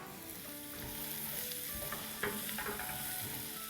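A seasoned mixture of salt and black pepper sizzles in a frying pan while being stirred, a soft, continuous crackle with light scraping of the spoon and no talking.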